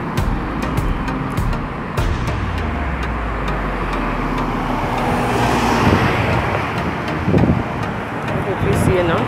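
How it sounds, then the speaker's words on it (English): Road traffic passes steadily near Sabina Park in Kingston, Jamaica, a continuous rumble of cars with one vehicle sweeping by early on and voices faintly underneath. "from time to time you'll see the vehicles passing"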